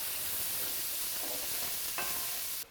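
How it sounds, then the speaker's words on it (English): Sausage, garlic and onion fry in a pan with a steady, loud sizzle, and a utensil scrapes as they are stirred, before the sound drops off abruptly at the end. "now we give a nice turn with this, the garlic and the onion. We leave it cook a little bit more."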